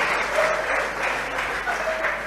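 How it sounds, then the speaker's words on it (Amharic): Audience applause at a church sermon: steady clapping from a crowd that holds at an even level throughout. "አጨብጭቡ።"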